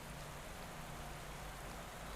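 Heavy rain pours steadily in the cycling game Pro Cycling Manager 2021 during a Giro stage, a constant soft hiss of downpour with no voices.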